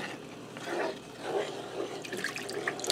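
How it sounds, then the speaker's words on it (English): Milk pours steadily into a pan of gravy for chicken fried steak, a soft, continuous liquid rush heard close up with no talk over it. "I'm adding all my milk in"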